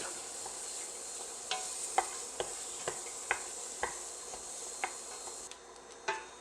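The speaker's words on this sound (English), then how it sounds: "we're just going to stir these in the roux" A spoon stirs chopped onion and celery through a gumbo roux in a pot, soft scraping knocks landing at a slow, steady pace over a quiet, continuous sizzle.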